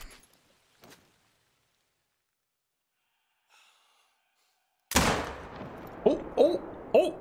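A single loud hunting rifle shot cracks out on a New Zealand hunt after a long stretch of near silence, its sharp report decaying quickly, followed by a few short breathy sounds close to the microphone.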